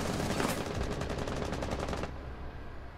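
Rapid automatic gunfire rattles in Rainbow Six Siege on the favela map, a fast string of sharp shots for about two seconds before stopping, leaving quieter background game ambience.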